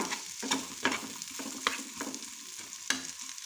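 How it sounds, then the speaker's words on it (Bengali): Chopped onions fry in extra oil for a fish curry, a soft continuous sizzle broken by regular stirring scrapes about every half second, fairly quiet and close, with no talking. "এবার ওই তেলের মধ্যে আমি আরও কিছুটা তেল দিয়ে দিয়েছি, তার মধ্যে দিচ্ছি পেঁয়াজ কুচি"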